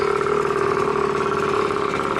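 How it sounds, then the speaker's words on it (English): A Suzuki DS80 80cc two-stroke dirtbike engine idles nearby, a loud steady buzzing putter with an even, rapid pulse and no voices over it. "Hey, it's idling good."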